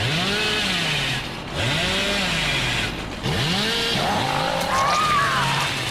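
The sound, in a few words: Hillbilly's chainsaw revving in a horror video game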